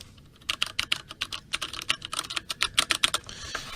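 Quick bursts of close, crisp clicking from typing on a CODE mechanical keyboard with Cherry switches, with uneven rapid keystrokes throughout and no voices.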